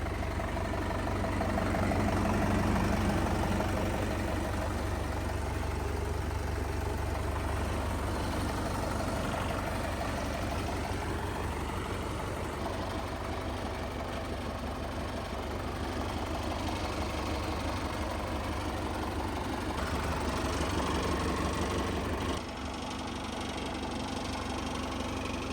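A 2023 Sonalika Sikander DI 745 tractor engine idles steadily for the whole stretch, a continuous mid-pitched rumble with a faint knocking beat and a slight shift in tone near the end.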